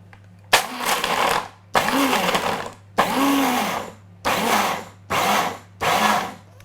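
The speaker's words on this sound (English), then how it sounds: "we're going to use the blender, pulse a few times until we make a nice fine dust out of the Brazil nuts" Blender pulsing Brazil nuts into fine powder in six loud bursts of grinding whir of about a second each, separated by short pauses, with a low steady hum underneath.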